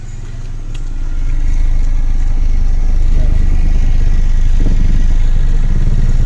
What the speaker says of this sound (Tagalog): okay pa yung tunog ng tambutso